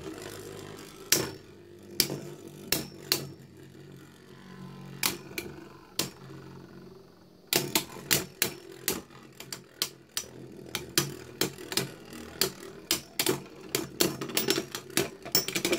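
Beyblade spinning tops clashing in a battle arena, sharp repeated clacks and impacts, sparse at first and then rapid and dense after a brief pause, with light scraping between hits.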